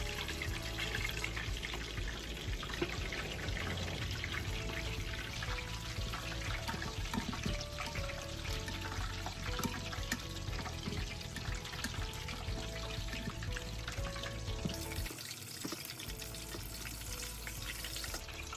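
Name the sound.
chicken frying in hot oil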